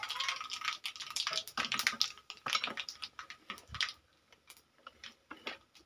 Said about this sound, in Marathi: आता मोहरी आपली कडलेली आहे आणि जिरे पण कडलेले आहेत आणि थोडासा कढीपत्ता टाकले आहे।